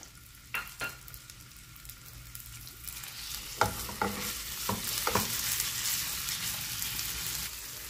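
Ground pork fries in cooking oil while being stirred, a continuous close sizzle that grows louder and denser over time, punctuated by scraping knocks of the utensil against the pan.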